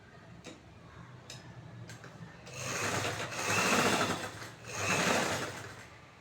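A sewing machine stitches a chudithar bottom. A few light ticks come first, then the motor whirs up in three loud, close bursts with brief slowdowns between them.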